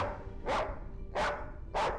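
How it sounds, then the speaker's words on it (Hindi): A dog barks three times at an even pace, each bark a sharp burst roughly two-thirds of a second apart, over a quiet background hum indoors. "ये कुत्ता भौंक क्यों रहा है?"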